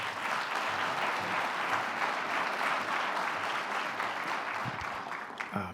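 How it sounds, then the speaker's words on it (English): Sustained applause from the audience at a community meeting on violence in Winston-Salem, North Carolina, steady and dense clapping filling the room for several seconds before tapering at the end. "please give him a round of applause"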